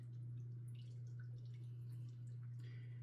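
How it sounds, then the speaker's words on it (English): Marinade for Filipino tocino is poured over raw meat in a container: soft, faint liquid drips and splashes over a steady low hum, close and quiet, with no talking. "I'm going to pour this marinade over top of this meat"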